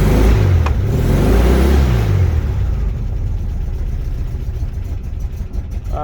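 A 1969 Volkswagen Beetle engine catches and revs loudly up close for a couple of seconds, then drops to a rough, uneven idle that fades and sputters as if about to cut out.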